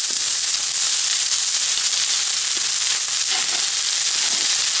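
Leeks fry in olive oil in a non-stick pan, a loud, steady, bright sizzle that hisses continuously with faint crackles and no speech.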